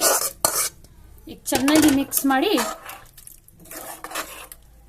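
Metal spoon scraping and clinking against a pot while cooked mutton and potatoes are stirred together, a steady series of close scrapes and knocks with someone speaking briefly over them.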